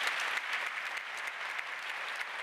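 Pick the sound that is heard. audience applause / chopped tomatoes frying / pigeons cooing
audience applause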